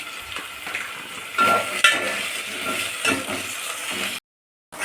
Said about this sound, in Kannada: ಇವಾಗ ನಾವು ಒಂದು ಬಾಣಲಿಲಿ ಈರುಳ್ಳಿ, ಬಿರಿಯಾನಿ ಲೀಫ್ ಹಾಗೂ ಏಲಕ್ಕಿ, ಲವಂಗ ಮತ್ತು ಹಾಕ್ಕೊಂಡು ಚೆನ್ನಾಗಿ ಫ್ರೈ ಮಾಡ್ಕೊಳ್ಳೋಣ